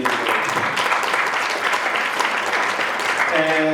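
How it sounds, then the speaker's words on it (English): An audience at a local government conference claps steadily and fairly loudly, a dense, sustained round of applause with a voice coming in near the end. "So a round of applause for the work that started many years ago."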